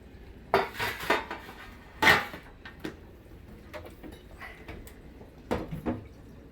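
Pans and metal clatter in bursts as yarn-wrapped dowels come out of a home oven, sharp clanks and rattles close by with quieter knocks between, and no one talking.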